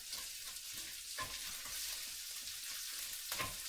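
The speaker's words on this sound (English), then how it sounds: "Okay, here the sizzling noise" Loud, steady sizzling and frying of shrimp and garlic in a hot pan, with a few scraping stirs punctuating the crackle throughout.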